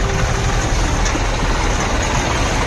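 A JK vehicle's engine comes along a road in Kolar ward, a loud, steady rumbling drone that fills the whole stretch without pause.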